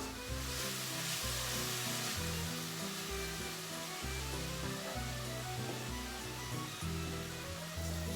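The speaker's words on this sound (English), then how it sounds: "While the pancetta is browning" Packaged pancetta browning in a pan for pasta carbonara gives off a steady, fairly faint sizzle and hiss throughout, with background music running underneath and nobody talking.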